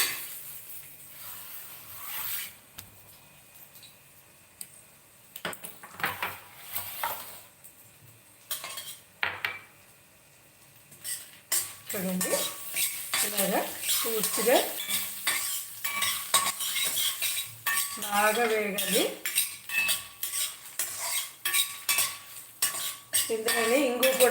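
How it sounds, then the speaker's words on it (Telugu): Curry leaves hitting hot oil in an Udupi-style rasam tempering, a quiet start giving way to loud crackling sizzle with busy metal spoon scraping and clinks against the pot. "అలాగే ఇందులో కరివేపాకు కూడా వేస్తాము ఇలాగా వేగించింది"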